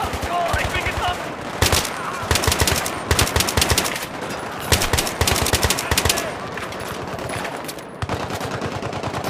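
Rapid bursts of automatic gunfire in Battlefield 3 rattle repeatedly, loud and close, with short pauses between volleys and a busy game din underneath.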